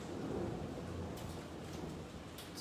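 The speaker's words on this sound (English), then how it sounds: "Can you hear that thunder?" Thunder rumbles during a rainstorm, a low, faint rolling roar under a steady hiss of rain, heard from a distance with no voices.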